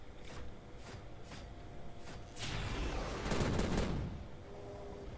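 Gunfire in the video game Prey: several sharp, spaced shots at first, then a louder burst of rapid firing with a crackling, rumbling tail, heard alone without talk.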